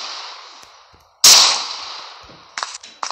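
A single sharp gunshot in the Prop Hunt video game cracks loudly and decays over a second, followed by a few quicker, fainter shots near the end.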